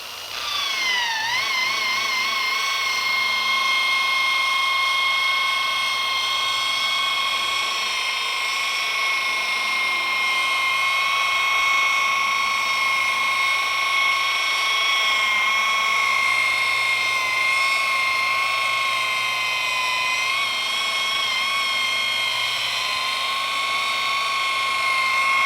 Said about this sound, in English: whenever you're polishing with a rotary machine, you do not see me putting so much pressure onto the machine